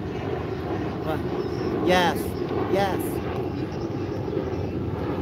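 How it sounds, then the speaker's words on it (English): A couple of airplanes pass overhead, their engine drone rising and sweeping twice in quick succession, moderately loud beneath a brief spoken word. "It's just a couple of airplanes flying over."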